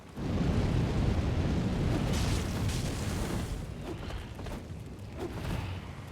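A fire attack in the video game Elden Ring, a sustained roaring, rushing blast of flame that stays loud and dense throughout, with a few brief crackles and pops near the end.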